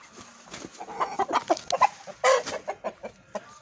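Several Foxy Master chickens cluck close by in quick, irregular bursts, with one louder squawk standing out amid the busy chatter.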